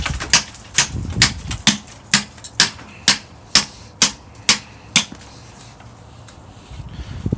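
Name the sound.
steel chisel struck against lamellar armor plate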